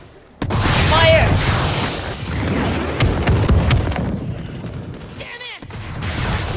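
Missile launches fired from manual controls in World War Z rumble as booming blasts and bursts of gunfire, loud and close over a noisy battle, with players talking over them.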